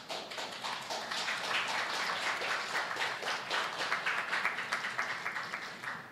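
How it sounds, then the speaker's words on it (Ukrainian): A large audience at a city budget presentation in Zaporizhzhia applauds steadily and fairly loudly, with dense clapping that swells slightly and keeps a rippling rhythm throughout. "Ці оплески людям"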